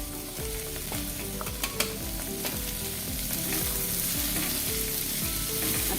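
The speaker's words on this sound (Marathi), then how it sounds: "आता ह्या व्यवस्थित भाज्या त्या मसाल्यामध्ये चांगल्या परतून घ्यायच्या" Vegetables sauté in raw ground masala with a loud, continuous sizzle and regular scraping strokes of a spatula stirring the pan, close up and steady, with no one speaking.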